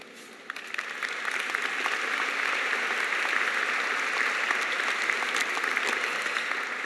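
Sustained applause from a large audience at a Columbia Nursing graduation ceremony, steady dense clapping that starts after a brief quieter moment and holds evenly throughout, with no voices over it.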